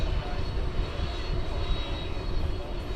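A jet airliner rumbles at night at DFW Airport as it takes off, a loud, steady, broadband engine roar that holds even throughout with no distinct breaks.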